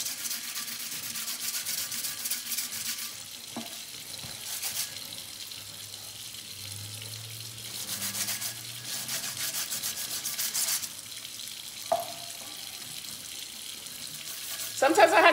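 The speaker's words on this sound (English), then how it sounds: "I'm just gonna put my hand in here in the tumbler so I don't drop it, and just lightly sand it" A tumbler lightly sanded by hand with a 120-grit sanding disc under running water, steady gritty rubbing bursts over a constant trickle of water, moderately quiet and close, with a few small knocks.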